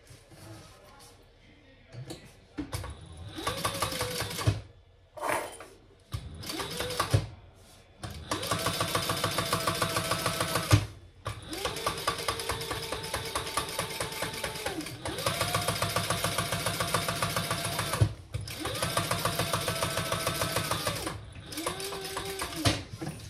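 An old Fabricator sewing machine runs in repeated bursts of several seconds each, its motor whining steadily with a knocking rattle, pausing briefly between stitching runs.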